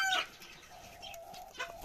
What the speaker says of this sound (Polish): Perliczki pokazują kogutowi, kto rządzi.